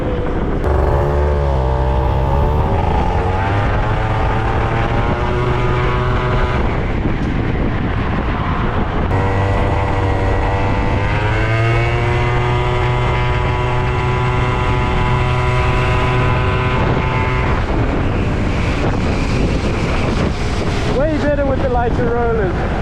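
An Italjet Dragster 180 scooter fitted with Malossi parts revs its engine, a loud, close, continuous buzzing drone that climbs and falls in pitch through repeated throttle blips, with wind rush throughout.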